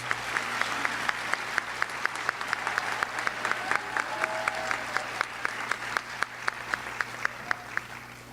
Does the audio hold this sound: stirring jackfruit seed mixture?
no